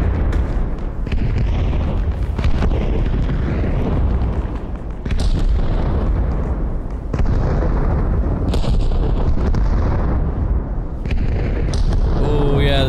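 Mortar rounds in the video game Arma Reforger, during a beach assault, thud and boom in heavy repeated blasts over a continuous loud rumble, with occasional voices in the mix.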